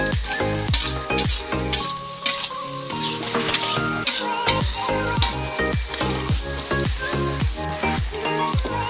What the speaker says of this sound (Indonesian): diaduk sampai benar-benar agak kering dan harum